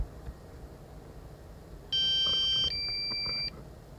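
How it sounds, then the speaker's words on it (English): A drone's low-battery warning: a steady electronic beeping tone sounds for about a second and a half, stepping to a slightly different pitch partway through, over a low background hum. "That lovely beeping sound."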